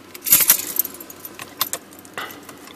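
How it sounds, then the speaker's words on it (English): A bunch of Jeep keys jangling close up, a bright metallic clatter at first followed by several smaller clinks as the keys are handled. "Here's the keys to the Jeep."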